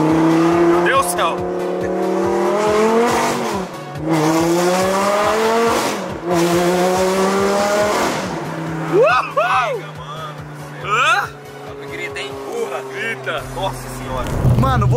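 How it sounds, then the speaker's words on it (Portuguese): A Lamborghini revs and accelerates hard, its engine note rising repeatedly in strong sweeps with bursts of tire squeal, loud and close, while people shout and talk excitedly over it. "vocês viram que o Renato acelerou muito minha Lamborghini?"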